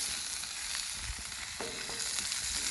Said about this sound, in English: while that's browning away in our pan